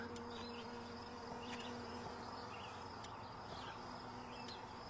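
A steady honey bee buzzing hum around a hive queen with a few brief higher chirps, constant and close, no voices.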